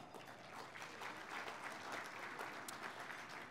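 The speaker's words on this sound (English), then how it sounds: "Can we give you a round of applause?" Steady, dense applause from a large audience at the LULAC National Convention, filling the whole stretch at an even level with no talking.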